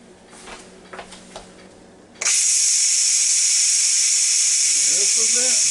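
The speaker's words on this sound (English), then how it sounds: "It'll take it a couple minutes to finish the venting." A Ninja Foodi pressure cooker releases steam through its vent with a sudden loud, steady hiss that keeps going without a break. A voice is heard before it starts and again faintly beneath the hiss near the end.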